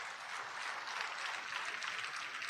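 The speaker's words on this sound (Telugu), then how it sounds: "అర్థమైతే చప్పట్లు కొట్టకుండా ఉండలేరే." Steady audience applause in a church gathering, a dense even wash of many hands clapping at moderate distance, continuous without breaks.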